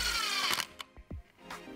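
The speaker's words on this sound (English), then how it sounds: "Pre-drill the rat trap so it doesn't split, and then chuck a couple more screws in there to hold it onto the support." A power drill drives screws into a rat trap to fix it onto a support, heard as a few short, close whirring bursts separated by brief pauses.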